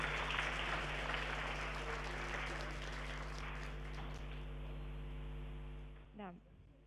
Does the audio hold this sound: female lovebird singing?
no